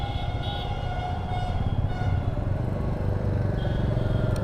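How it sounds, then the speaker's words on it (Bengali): Around twenty motorcycles set off one after another from a temple in Kolkata for a group ride to Purulia, their engines a loud, steady, overlapping rumble close by, with no talking. "তো দেখতেই পাচ্ছ সব বাইক এক এক করে বার হচ্ছে।"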